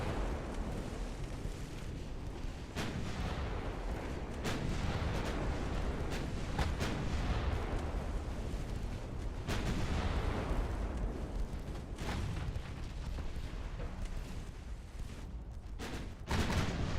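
Naval artillery from a warship fleet in the Ultimate Admiral Dreadnought video game booms in repeated heavy salvos over a constant low rumbling battle bed, the sharp blasts spaced several seconds apart throughout, with no talk.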